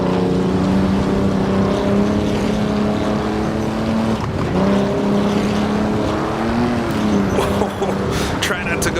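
Auto Union race car in Assetto Corsa at the 1937 Donington Grand Prix, engine held flat out in fourth gear as a loud, continuous droning roar with a slight pitch dip mid-run, under a voice talking.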